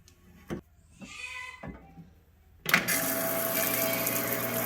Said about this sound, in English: This is a parts washer. You put your parts in, you use a brush, and you clean the parts right off.